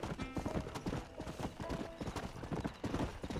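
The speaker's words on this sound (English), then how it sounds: "The wild horse just hanging out?" A wild horse in the Red Dead Redemption video game trots close by, its hooves producing a steady, rhythmic clip-clop that carries on throughout without any talking.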